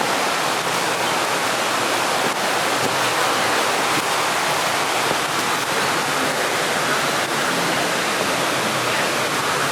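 A North Georgia forest river beside a hiking trail at Panther Creek rushes loudly and continuously, a dense, even roar of water filling the whole span with no voices.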